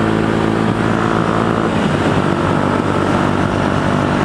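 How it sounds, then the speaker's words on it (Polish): A Yamaha YZF-R125 motorcycle with a 125 cc engine and six-speed gearbox revs loudly up close, its steady droning tone climbing in pitch partway through. "Silnik dopiero czuje swoją moc, jak ma przekroczone 8000 obrotów, 7000, coś takiego."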